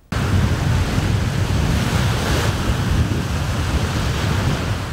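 Waves wash onto the Azov Sea shore in a loud, continuous roar of surf, close by and mixed with gusting wind noise, with no voices.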